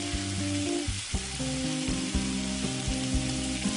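White wine deglazing a hot pan with olives, sizzling and frying steadily and loudly throughout with small spits and pops, with no talking.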